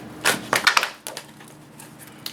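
Tarot cards shuffle at close range in a few quick, crisp bursts of riffling and slapping, the first bursts loudest, then fading to lighter flicks, with no talk.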